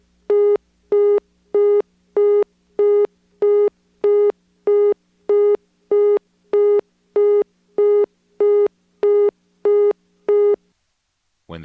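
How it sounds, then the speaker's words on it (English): A telephone busy signal, heard through a motel PBX on an NX1 exchange in Siler City, North Carolina, in 1977, pulses in a steady, even rhythm, about fifteen clear beeps in a row with nothing else audible. "When the outgoing lines are busy and you dial 9, you get a busy signal"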